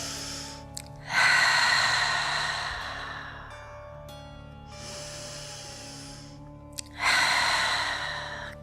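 Slow, deep breaths fill a quiet room during a yoga stretch. Two long, airy exhales arrive a few seconds apart, with a softer breath between them and faint background hum underneath.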